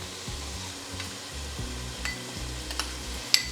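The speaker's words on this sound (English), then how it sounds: "and we'll saute all of that together." Garlic and vegetables sauteing together in a pot for a one-pot dinner, a steady soft sizzle with low stirring scrapes and a single sharp utensil clink near the end.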